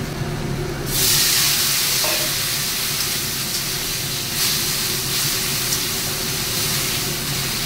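Water poured onto turmeric and ground cumin in a hot pan sets off a loud, steady hiss and sizzle that continues close up throughout.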